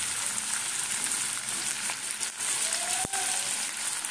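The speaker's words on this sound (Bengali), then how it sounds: "পেঁয়াজটা দিলাম, পেঁয়াজটা হালকা ভাজা হয়ে আসছে" Onion fries in a pan with a steady, close sizzle that crackles continuously, broken by a couple of faint clicks of a utensil.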